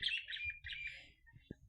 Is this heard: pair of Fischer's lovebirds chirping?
yes